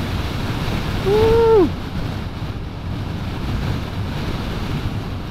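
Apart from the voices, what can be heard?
strong wind near windmills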